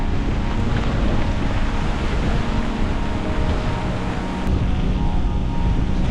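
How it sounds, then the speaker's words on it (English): Strong wind roars and buffets a microphone during a bikepacking ride, producing a dense, continuous rumble that barely eases for the whole stretch. "Whoa, it's windy!"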